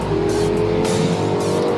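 A Lexus LFA engine roars loudly and continuously up close, a high, rasping race-car note with slight shifts in pitch.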